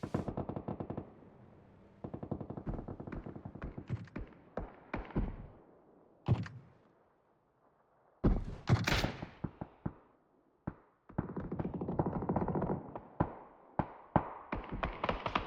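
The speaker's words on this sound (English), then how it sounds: "Fiora shooting down at Gosp." Rapid bursts of automatic gunfire in a competitive shooter video game scrim, coming in repeated volleys with brief pauses between them, plus a few sharp single shots; no one speaks.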